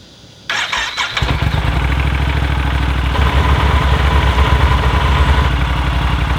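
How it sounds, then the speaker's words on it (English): A Yamaha Super Tenere motorcycle with a weak battery cranks briefly, catches, and settles into a steady, loud idle close by, with no one speaking. "but it starts the bike up"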